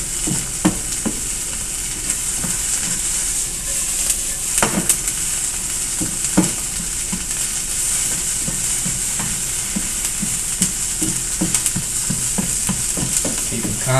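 Onions and bell peppers sizzle steadily in a bare metal frying pan for a veggie omelet, a constant hiss broken by soft scraping stirs and occasional clinks of the utensil against the pan.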